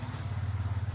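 A motorcycle engine idles nearby with a steady low pulsing throb, even and continuous through the short moment, with no voices.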